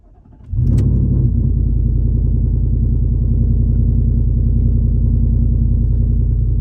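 A car engine on a vehicle with a Superchips FlashCal tuner cranks and catches, then settles into a loud, steady, close idle rumble with no talk.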